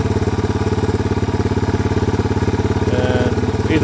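A Yamaha TW200 motorcycle with a carburetor leaking fuel idles close by, a loud, steady single-cylinder thump with an even rapid pulse that holds throughout.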